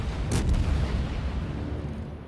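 Main guns of the Zao cruiser firing in the naval video game World of Warships, a single heavy boom near the start over a dense, rumbling low-end battle din.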